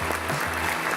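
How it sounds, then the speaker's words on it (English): A brief burst of applause honoring neighborhood cleanup volunteers, a dense steady patter lasting about a second, with a low hum beneath it. "Round of applause for all of you."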